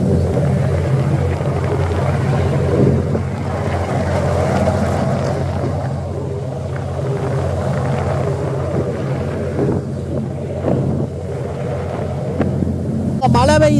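A ferry engine between Indonesia and Singapore hums low and constantly, with wind noise and someone talking over it.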